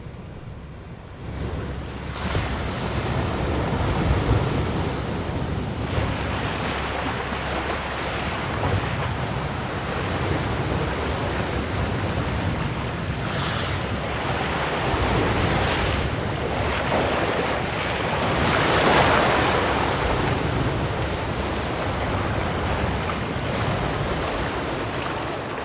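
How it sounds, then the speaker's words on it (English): Turbulent sea water surges around a Scottish island at the highest tide of the year, a continuous loud roar of waves and surf mixed with heavy wind buffeting, with no voices throughout. "The turbulent water, supercharged by the highest tide of the year"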